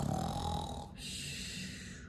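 A person imitates snoring with a slow, rasping inhale followed by a softer breathy exhale, close and quiet.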